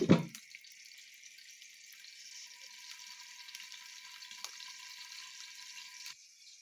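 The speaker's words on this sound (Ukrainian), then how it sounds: "Смажимо наші котлетки на сковорідці, на олії на соняшниковій при закритій кришці" Steady sunflower oil sizzling and crackling as potato and cabbage cutlets fry in a covered pan, continuous and close, with a brief low thump at the start.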